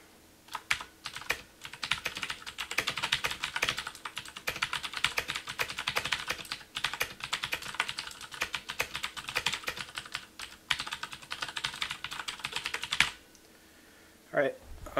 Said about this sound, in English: typing a sentence that uses every letter in the alphabet